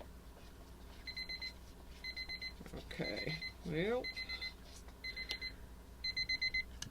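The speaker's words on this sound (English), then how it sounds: "here's my timer." Kitchen timer alarm ringing in repeated short bursts of high beeping, fairly faint, while a person briefly speaks in between, during silicone mold making.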